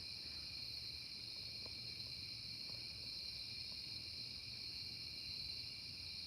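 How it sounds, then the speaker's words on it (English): Crickets and tree frogs call outdoors in the wilderness after rain, a dense steady chorus of high shrill trilling layers that goes on without a break, with a few faint chirps over a low background rumble. "Those are all tree frogs and crickets out there."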